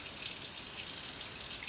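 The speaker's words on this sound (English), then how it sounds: "So I just run in the tap for as long as I can." Hot water runs steadily from a kitchen tap, a constant hissing splash at moderate level with no pauses and no talk.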